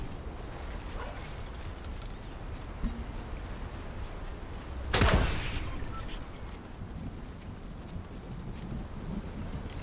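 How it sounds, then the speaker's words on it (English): Gunfire in the Fortnite video game: one loud sharp burst cuts through midway, with quieter game ambience and faint clicks before and after it. "We're getting shot at"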